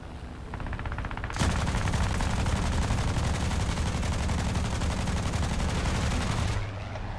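Rapid machine gun fire from a German aircraft in the War Thunder combat flight game: a dense, continuous burst of gunshots lasting several seconds, loud and close, then stopping, with engine drone underneath.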